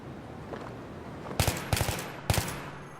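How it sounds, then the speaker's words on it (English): Aimed-down-sights gunfire in a shooting video game: after a quiet start, several sharp, close shots come in short, controlled clusters of one or two rounds. "let's go back and shoot the same guy at the same distance with ADS or aiming down the sights"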